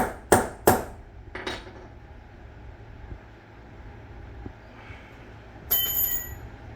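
A punch is hammered into a battery wire terminal to dent a hole: three sharp metallic blows close together, a quieter tap, then a bright ringing clink near the end.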